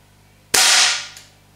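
A single sharp shot from a Gamo Shadow DX air rifle, a loud crisp crack with a brief decaying tail and a faint secondary click just after, alone against quiet background hum.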